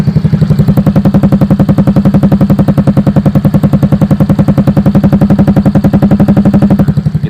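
Yamaha Grand Filano scooter with a ZRC exhaust idling, recorded close to the exhaust outlet; a loud, steady, rapid low putter runs evenly throughout with no voices.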